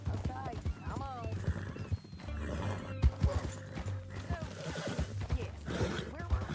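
In Red Dead Redemption 2, hooves clip-clop steadily while a horse neighs and whinnies several times, with voices talking over the busy game scene.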